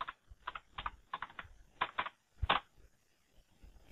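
A password typed on a computer keyboard: quick irregular bursts of soft key clicks, close and quiet, with brief pauses between groups of keystrokes.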